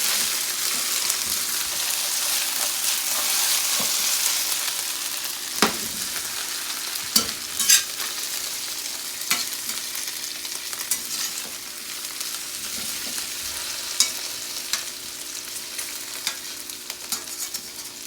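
Potatoes fry and sizzle in a pan as they are tossed, a steady close hiss with scattered sharp scraping and clattering knocks from the repeated tossing.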